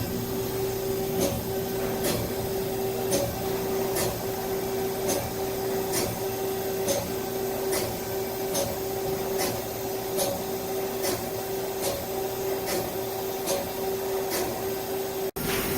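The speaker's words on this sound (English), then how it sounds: "QTU350MY live tooling is running." A 2017 Mazak QTU350MY CNC lathe runs its live tooling in a steady, unchanging machine drone with a persistent tonal whine and faint regular ticks. The sound is close and continuous, with no talk.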